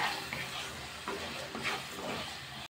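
Potatoes cooking in a pan with salt are stirred, giving a soft, steady sizzle broken by several close scraping strokes of the spoon.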